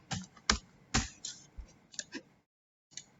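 Computer keys typed in short bursts of crisp clicks while entering names into a spreadsheet, several close taps followed by a brief pause and one last keystroke.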